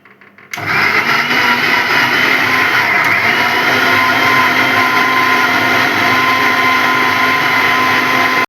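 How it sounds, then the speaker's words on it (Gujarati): A mixer grinder whirs loudly, grinding paneer butter masala ingredients into a fine paste; the motor starts abruptly after a brief quiet moment and holds a steady, dense, high-pitched whine until the end. "પછી મિક્સર જારમાં આ બધી વસ્તુઓને આપણે ગ્રાઇન્ડ કરી લેવાની છે અને એક ફાઇન પેસ્ટ રેડી કરવાનું છે"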